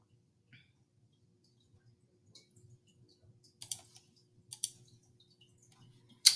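Sparse, quiet clicks of typing on a computer keyboard against a faint low hum, with a few slightly louder key taps clustered near the end.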